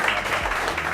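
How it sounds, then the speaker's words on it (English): Audience applause at the close of a talk: a dense, steady wash of many hands clapping at once, filling the whole brief moment at even loudness. "I think you all deserve a hefty round of applause"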